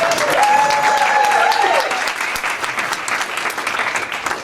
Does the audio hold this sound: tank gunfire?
no